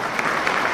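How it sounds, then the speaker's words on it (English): A brief burst of audience clapping at a top-level dressage event after a horse's piaffe, dense and steady throughout. "I think that's worth an applause for sure"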